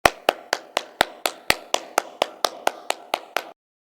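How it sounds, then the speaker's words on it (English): Fifteen single hand claps at a steady, even pace, sharp and close, alone with no other sound, ending in silence. "I am clapping."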